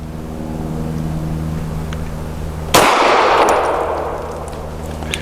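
A single loud gunshot from a Tisas Zigana PX-9 G2 9mm pistol cracks sharply over a steady background hum, then rings out into a long decaying tail.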